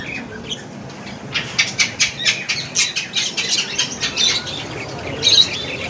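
Pigeons in a pet bird shop flap their wings in quick bursts and squawk and call, a busy run of close wingbeats with no talk.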